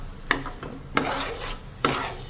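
Prawn roast stirred with vegetables in a pan: three sharp spatula scrapes and clanks against the pan at roughly even intervals over a soft background sizzle, close and fairly quiet.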